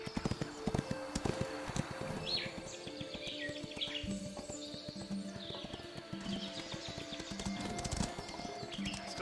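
Rapid, rhythmic hoofbeats of a galloping horse in the video game Ostwind pound steadily throughout, with light bird chirps drifting over the top.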